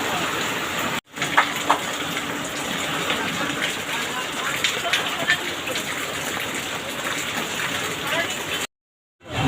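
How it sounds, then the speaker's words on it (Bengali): Heavy rain pours over a market at night as a dense, continuous hiss and roar of water, close and unbroken, with brief cut-outs at the start and end. "বৃষ্টি থামার কোনো নাম নেই"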